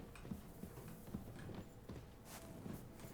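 Horse hooves clip-clop in a steady walking rhythm in the medieval video game Kingdom Come: Deliverance II, fairly quiet and even, with no talk over them.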